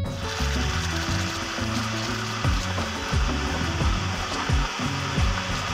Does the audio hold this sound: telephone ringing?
no